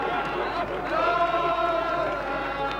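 Background roar of the crowd at the 1986 QAFL grand final, Coorparoo versus Southport, a steady distant murmur of cheering with voices mixed in.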